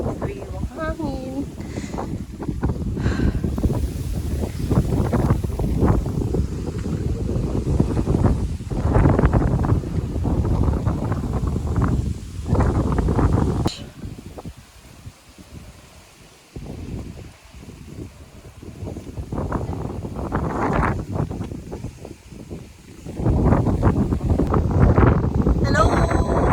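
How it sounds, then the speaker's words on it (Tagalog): Strong wind buffets the microphone on a seaside deck at Dingalan, Aurora, a steady roaring rush that dips briefly midway, with people talking throughout. "Lakas ang hangin."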